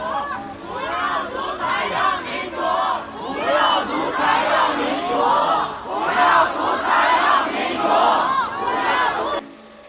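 A large protest crowd chants slogans in unison, rhythmic massed shouting that rises and falls in repeated phrases, loud and continuous with a reverberant outdoor spread.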